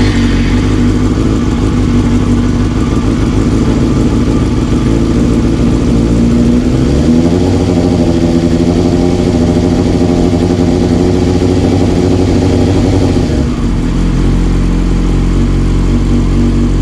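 A rebuilt 5EB Yamaha R6 motorcycle starts with the choke partly on. Its engine runs loud and close, revving up and down unevenly before settling toward a rough idle, with no one speaking.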